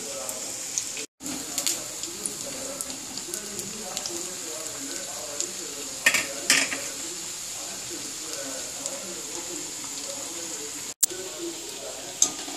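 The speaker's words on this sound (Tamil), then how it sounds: "எல்லா வடையும் பொரித்து எடுத்துக்கலாம்." Vada fritters frying in hot oil, a continuous loud bubbling sizzle lasting throughout with occasional clinks of a utensil, while a person talks over it.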